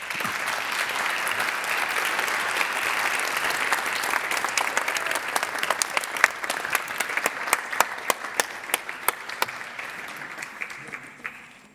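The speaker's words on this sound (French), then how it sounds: "Je pense qu'on peut encore les applaudir." Audience applause in a hall after a speech in a French verbal jousting final, sustained dense clapping that thins out toward the end into a few louder, scattered claps before fading.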